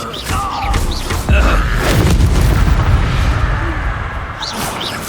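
A Bombarda explosion spell from the Hogwarts Legacy video game goes off as a deep, loud boom that rolls into a sustained rumbling blast, with faint magical chimes and whooshes around it.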